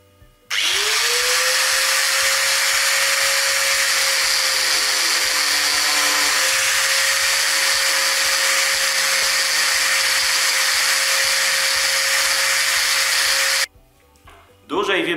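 Arbortech TurboShaft angle grinder carving wood, a loud, steady high-pitched whine with a sustained tonal hum running almost unbroken for about thirteen seconds before cutting off abruptly near the end.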